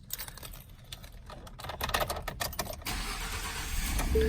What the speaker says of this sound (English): As the truck fires up